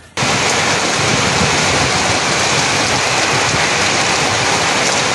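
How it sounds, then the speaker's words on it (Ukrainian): A dense, steady roar of heavy downpour rain in the town of Boryslav pours down without pause, loud and close, starting abruptly and continuing unbroken. "а це проливний дощ у місті Борислав"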